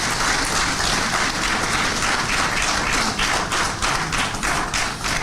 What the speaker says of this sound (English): Please, let's clap for them for a great job they have been doing.